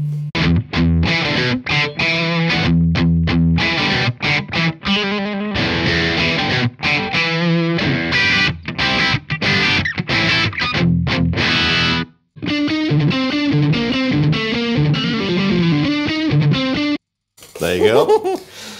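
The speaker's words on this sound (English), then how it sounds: "In mode D1, that sounds like the classic kind of orange pedal from the early 80s." Electric guitar played through a Steelpark distortion pedal in mode D1, a saturated, scooped, crisp tone of loud sustained chords and riffs, with a brief pause and a short burst of talk near the end.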